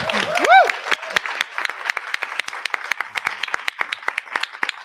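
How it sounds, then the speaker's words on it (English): A theater audience gives a round of applause for the Actors Fund, a lively wash of many hands clapping, with a brief whoop or voice near the start. "a nice round of applause for them"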